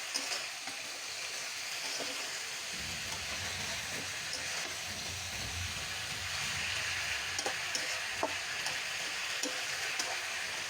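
Large pumpkin slices are stirred in a frying pan for a village-style vegetable curry, giving a steady sizzle with scraping stir strokes and occasional clicks, close and continuous with no talk.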